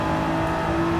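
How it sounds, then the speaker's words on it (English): A race car accelerates at full throttle in Gran Turismo 7, its engine a loud, sustained high-revving drone with steady tonal harmonics, close and uninterrupted, with no talking. "And now full throttle, you know, just accelerating as hard as possible, as quickly as possible."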